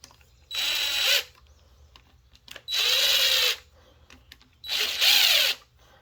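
A power drill runs bolts down on a Honda CR250 motorcycle in three separate loud, close whirring bursts, each about a second long, with short quiet gaps between them.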